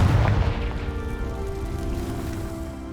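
A deep boom from a Confringo fire spell blast in the Hogwarts Legacy game, a heavy low burst at the start that rumbles and fades out over a few seconds.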